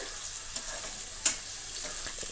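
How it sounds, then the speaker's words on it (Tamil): Onions fry in hot oil on high heat for biryani, giving a steady bright sizzle with a couple of sharp stirring clinks; no voices. "ஹீட் வந்துட்டு ஹையில் வச்சு நல்லா ஃப்ரை பண்ணி எடுத்துக்கோங்க."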